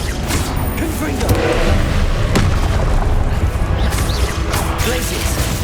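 A Confringo fire spell explodes in the Hogwarts Legacy video game, a dense, continuous roar of booming blasts and crashing impacts amid other combat effects, with a voice calling out spells.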